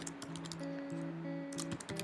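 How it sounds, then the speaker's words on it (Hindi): Several crisp computer-keyboard key presses, as for a Ctrl+B shortcut in Adobe Premiere Pro, click close up in a quick uneven cluster over a steady soft electronic tone. "आप अपने कीबोर्ड से कंट्रोल B प्रेस करें"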